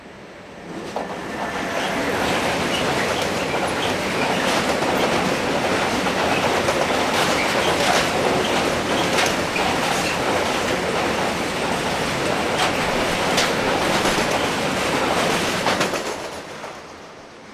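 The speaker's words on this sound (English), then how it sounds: "152161 heads tanks from probably Stendal to Sielze." A Class 152 electric locomotive hauls a freight train of tank wagons through Hannover-Linden station, a loud, steady rumble of rolling wagons and rhythmic wheel clatter that swells in, runs continuously and fades at the end.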